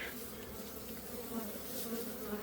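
A steady, dense buzz of many honey bees at a farm apiary hive entrance, continuous and even, with individual insects droning past now and then.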